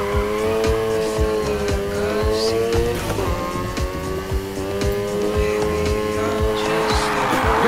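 A car drifts in Need For Speed Heat, its engine droning steadily while the tires squeal in long sustained slides, loud and close throughout.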